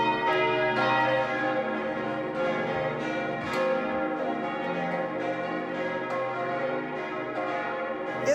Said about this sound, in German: Das Abendläuten ist ausgiebig und laut.